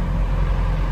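Low, rumbling hum of a 1958 Austin A35 engine ticking over in first gear, heard close from inside the car as a steady, muffled drone.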